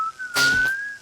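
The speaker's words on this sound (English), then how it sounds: "And guess what? Whistles." A single steady whistled tone holds nearly level for about a second, rising slightly, with a brief breathy burst in the middle, clear and close with no talk.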